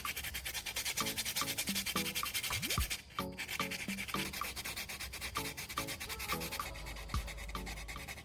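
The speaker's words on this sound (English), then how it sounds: "Use medium grit, sandpaper around 400 grit, and sand the surface slowly." Hand sanding of a repaired plastic eyeglass frame with 400 grit sandpaper: quiet, rhythmic rubbing strokes repeating steadily up close over a faint background hum.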